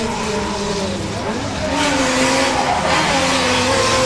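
Pro-Am drift car at a British Drift Championship qualifying run, accelerating hard with a loud, sustained engine roar and screeching tire squeal through the whole stretch, revs climbing steadily.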